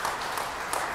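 Brief burst of audience clapping at an onstage conversation with an actor, a dense patter of many hands lasting about a second.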